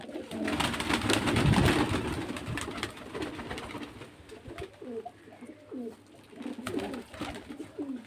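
Desi Giribaz pigeons from Murshidabad, kept for sale, coo steadily at close range in a low, throaty, repeating rhythm, with other rustling and bird noise in the background.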